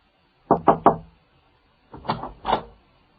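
Knocking on a door, close and crisp: a quick triple rap, a pause of about a second, then three more slightly heavier knocks.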